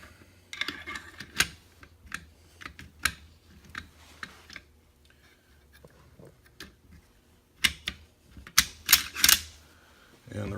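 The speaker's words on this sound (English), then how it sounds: "Now we're going to put the bolt carrier back in." Metal clicks, scrapes and sharp snaps of a rifle's bolt carrier being slid back into the receiver, irregular bursts of handling noise with quiet gaps between them.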